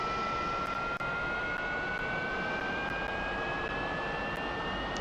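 A MiG-15 jet engine in the DCS flight simulator runs at idle with its throttle pulled back, a steady, loud whine and rumble with a slowly rising tone, alone with no voices.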